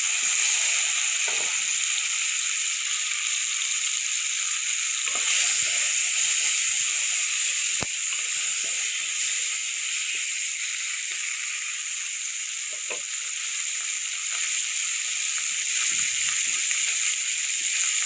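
Tomato dropped into a hot pan of frying rohu fish, giving a steady, loud broadband sizzle and hiss that runs unbroken, with faint crackles and small pops scattered through it.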